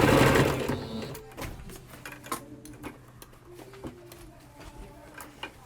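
A sewing machine runs a basting stitch, its rapid mechanical chatter loud at first, then giving way to quieter intermittent clicks and brief stitching bursts close by.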